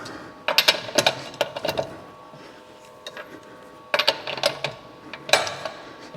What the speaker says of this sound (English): the normal wrench allow me to just unscrew them